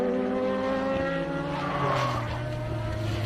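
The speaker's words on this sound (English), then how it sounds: "Somebody else skidding out there." Race cars on the NOLA SpeedTour circuit, one skidding out: engines roar with shifting pitch and a brief tire squeal at mid distance, no voices.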